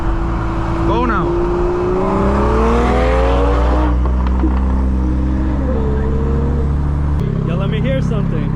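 An Infiniti Q50 and a BMW M340i roll racing, with loud engines revving and accelerating through rising gear pulls, close and continuous, while people talk and shout excitedly over the roar.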